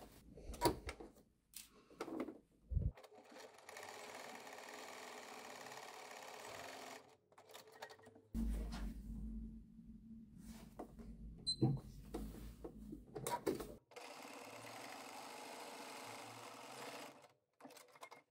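A sewing machine runs in several bursts while stitching a fabric seam on a multipurpose bag, with backstitching at the start and end; its motor whirs steadily for a few seconds, stops, and runs again, with quiet handling noises between runs.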